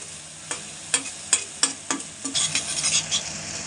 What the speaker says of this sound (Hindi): इस जगह हम अपने आलू जो हमने काट के रखे थे वो ऐड करेंगे। इनको अच्छे से चला लेंगे